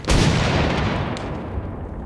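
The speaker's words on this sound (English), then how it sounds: "Shouting, gunshots, ricochets." A single heavy gunshot booms in a Vietnam War battle scene, followed by a long decaying rumble and echo; loud and close, no voices.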